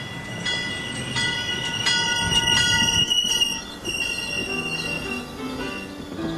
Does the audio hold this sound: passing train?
yes